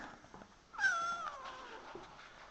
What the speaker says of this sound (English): But this is a cat, black cat visitor.